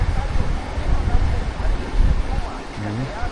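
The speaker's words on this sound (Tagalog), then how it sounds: "sobra malakas po yung hangin dito ngayon." Strong outdoor wind buffets the microphone in gusty, uneven rumbles while someone works soil in a garden, with a brief voice near the end.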